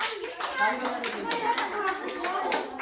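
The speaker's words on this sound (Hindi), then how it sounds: "इसके लिए ताली बजा दो" Group of children clapping hands for a race winner at a children's activity class: lively, slightly uneven clapping close by, with kids' voices chattering over it throughout.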